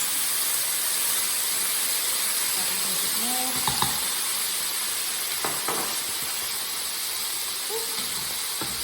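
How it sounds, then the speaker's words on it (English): A loud, steady hissing sizzle of balsamic vinegar in a hot pan, with a few clinks of utensils and a brief spoken remark over it. "This is going to sizzle, I would imagine."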